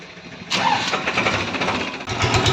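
A tractor engine cranks and turns over into a rough, steady rumble, fairly close and loud, with no talking.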